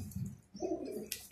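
A pigeon coos twice, close and fairly soft, with a brief airy rustle at the end.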